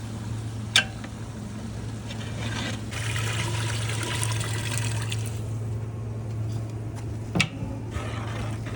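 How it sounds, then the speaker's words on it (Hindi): Water pours into a pot of frying beef mince, a soft continuous trickle and hiss over a low steady hum, with a couple of sharp clinks along the way. "अब हम इसमें पानी ऐड करेंगे।"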